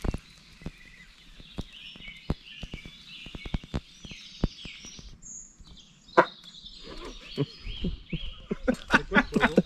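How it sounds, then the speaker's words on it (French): An unidentified bird gives high, thin calls outdoors in natural surroundings. They come in short bursts among scattered clicks and knocks, with quiet gaps in between. "C'était bizarre cet oiseau les gars."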